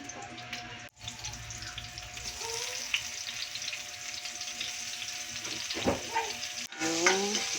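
Onion, garlic and pork sautéing for adobo in a pan, with a steady sizzle and frying crackle, occasional stirring scrapes and a few short clinks.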